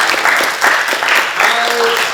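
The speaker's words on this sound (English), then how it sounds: "Let's give ourselves a round of applause." A group at a high school campus event applauds itself, a short burst of close clapping mixed with cheering voices.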